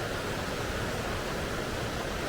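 A glacial river rushes past in a dense, even roar of flowing water, heard close and steady throughout with no voices.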